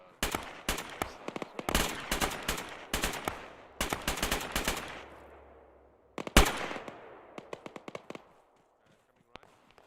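Sharp gunshots ring out in a video game firefight, fired in quick clusters and bursts with echoing tails, loud and close at first, then thinning to scattered distant shots.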